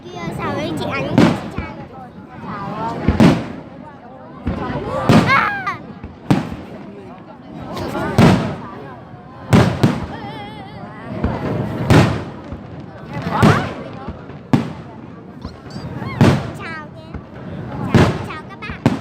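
A 2018 fireworks display booms overhead with about nine loud, echoing bursts at a steady pace of roughly one every two seconds, and spectators' voices murmur between the blasts.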